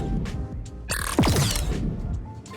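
A designed flamethrower ignition effect, layered in Krotos sound-design software: a sharp whooshing burst with swooping pitch sweeps rises out of a low rumbling bed, then settles back into a steady hiss.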